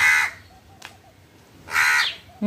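Two house crows and jungle crows cawing loudly at a village house while being fed flatbread, with a harsh burst of calls at the start, a brief call near the middle and another loud burst toward the end, no talk.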